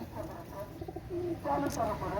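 A running pair of Oman Teddy pigeons coo softly, low murmuring calls that grow a little fuller toward the end, with faint voices in the background.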